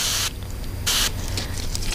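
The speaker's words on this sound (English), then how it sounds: "And then start spraying." Short bursts of fine, airy airbrush paint spray hiss start and stop, loud and close, while painting a fishing lure, with a softer hiss lingering between bursts.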